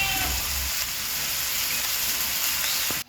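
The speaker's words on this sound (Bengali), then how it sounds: "আমি মাছ ভাজার তেলেই পেঁয়াজগুলো ভাজে নেব লাল লাল করে" Onions sizzle steadily in hot mustard oil, a close, continuous crackling hiss that stops abruptly at the end.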